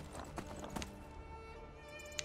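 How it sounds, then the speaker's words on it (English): Horse hooves clip-clop in a rapid galloping rhythm as a rider crosses open land in the video game Skyrim, quiet and steady with a few louder strikes. "I have a horse. And I'm riding through the land."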